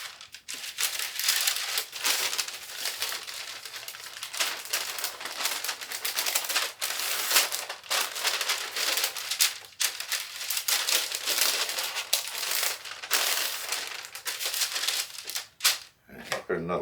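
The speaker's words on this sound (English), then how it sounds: "I'm going to take some parchment paper here." Sheets of parchment paper crinkle and rustle up close as they are handled and laid over a tray of stir-fry trail mix, a dense crackling texture lasting throughout.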